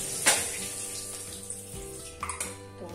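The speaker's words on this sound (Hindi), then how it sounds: "इस छलने में निकालने के साथ सारा पानी निकल जाएगा।" Water drains through a metal strainer after washing an ingredient for motichur laddu in a home kitchen. A short splash and clatter of the strainer are followed by a softer trickle of water, heard close and with no talk.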